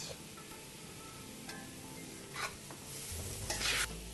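Carrots going into sautéed onions for Uzbek pilaf, sizzling steadily in a hot pan with stirring scrapes and a louder burst of frying near the end, no talk.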